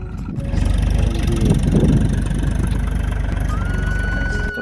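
A large tractor ploughs a harvested rice field, its engine a steady low, close drone that holds for several seconds with no talk.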